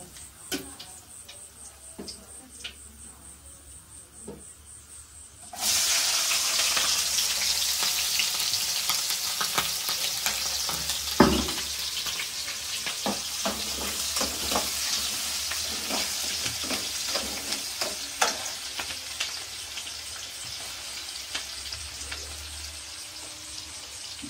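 Sliced onions drop into a pan and break into a loud, steady frying sizzle after a quieter opening of faint ticks, with scattered clicks of stirring and soft background voices.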